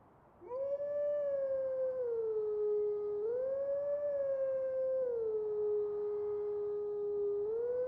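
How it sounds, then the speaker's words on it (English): A Howling Stone in the video game The Legend of Zelda: Twilight Princess gives a long, wavering wolf-like howl, a clear tone gliding up and down in pitch, steady and fairly soft, heard alone. "there's a Howling Stone somewhere over here"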